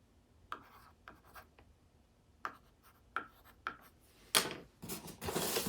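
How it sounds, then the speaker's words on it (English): Pen scratching on paper while box dimensions are jotted down, a series of short, separate scribbling strokes at close range, quiet and with no talk. "So I'll write that down."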